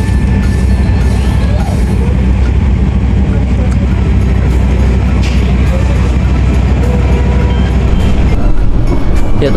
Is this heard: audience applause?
no